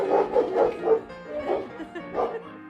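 German Shepherd guard dog giving a run of several loud, close barks and yips in an uneven rhythm, with no one talking.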